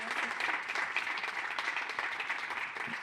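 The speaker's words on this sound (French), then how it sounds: "Je crois qu'on peut les applaudir." Applause from the audience closing a round table discussion, sustained even clapping from a room of people, moderately loud and continuous with no speech over it.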